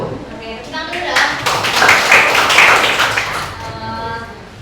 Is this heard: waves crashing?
no